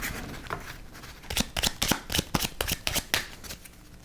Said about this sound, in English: We now shuffle these up.